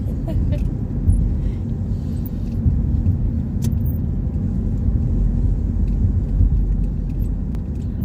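A car drives along US Route 40, the National Road, between the Indiana–Ohio border and Springfield, Ohio, as a steady interior road rumble and tyre noise that carries on unbroken throughout.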